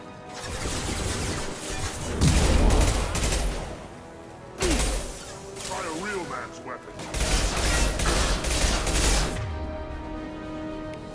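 Gunfire from the video game Mass Effect 2 in bursts of loud, dense shooting and crashing impacts, with two heavy volleys separated by a brief quieter gap, while a voice speaks over the combat.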